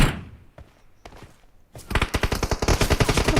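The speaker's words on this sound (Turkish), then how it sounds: "Bak bak sıkıyor." Gunfire in the mobile shooter PUBG Mobile on the Livik map: a few scattered single shots, then a loud rapid automatic burst of evenly spaced cracks for the last second and a half.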